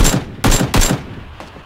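Close, loud bursts of rapid automatic gunfire in PUBG Battlegrounds, three quick volleys followed by a fainter, shorter burst.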